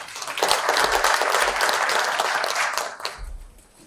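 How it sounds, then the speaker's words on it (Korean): A crowd at a government conference breaks into applause, a dense burst of clapping that holds for a few seconds and then quickly fades out. "박수 부탁드리겠습니다"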